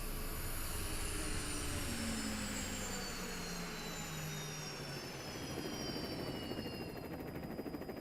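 An evacuation aircraft arriving at Azovstal fills the air with a steady, distant engine roar whose whine slowly falls in pitch as it approaches.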